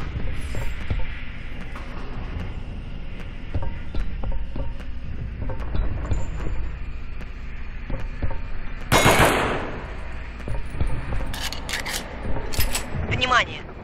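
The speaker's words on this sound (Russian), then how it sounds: "стреляй во все, что движется" Gunfire in the Aliens versus Predator video game, rapid mechanical bursts and clicks mixed with a sudden loud hissing blast and sharp metallic hits.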